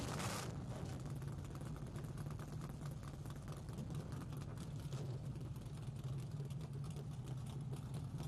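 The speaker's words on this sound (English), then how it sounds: "Gentlemen, start your engines." Whelen Modified Tour race cars fire up on the front straightaway at White Mountain, a dense, continuous low engine drone from the whole field rumbling steadily at a distance.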